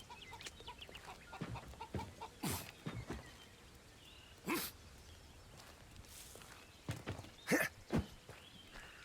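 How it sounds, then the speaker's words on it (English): Chickens clucking in the video game Of Ash and Steel, a series of short, fairly quiet squawks and clucks scattered irregularly over a low ambient outdoor background, with no talking. "Hello, chicken."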